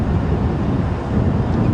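Wind buffeting a microphone on a safari drive, a loud, continuous low rumbling roar with irregular gusts and no talking.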